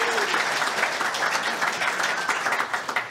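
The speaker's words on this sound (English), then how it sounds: "Big round of applause." An audience at a live quiz-style show gives a big round of steady applause, loud and continuous throughout with a few faint whoops on top.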